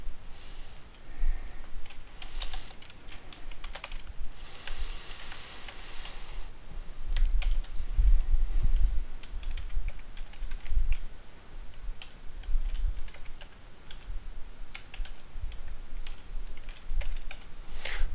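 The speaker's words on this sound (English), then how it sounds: "Sorry about my slow typing." Slow, uneven keystrokes on a computer keyboard entering login details, a run of close, distinct clicks and taps with irregular pauses between them, no talking.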